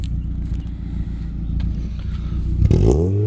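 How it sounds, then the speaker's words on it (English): A 1990 Mazda MX-5 Miata idles with a steady low exhaust burble, then revs sharply near the end, the engine note sweeping up loud and close. "Let me see if I can get you a little bit of that exhaust note out here"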